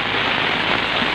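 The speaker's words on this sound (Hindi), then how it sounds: "जैसे कि आपको पता है कि बारिश हो रही है" Heavy rain falls steadily over a village, a dense, unbroken hiss of downpour close by with no voices over it.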